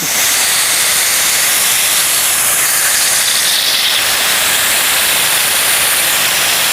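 DINOZO ZX15 high-pressure water pump spraying water with its engine throttled lightly for watering plants, producing a loud, steady, close hiss that continues unbroken the whole time with no voices.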